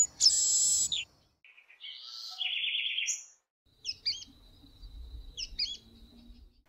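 Several wild birds call and sing at a rural property in western Paraná, Brazil, with bright chirps, trills and whistled phrases in bursts separated by brief pauses, fairly close and clear with no talking.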